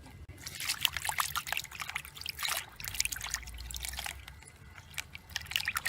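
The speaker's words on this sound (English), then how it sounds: "this is just a quick rinse to get all the dirt and any excess dirt and bugs off" Water trickles and splashes over freshly harvested garden greens being rinsed outdoors, a steady close pouring with irregular spattering bursts and no talk.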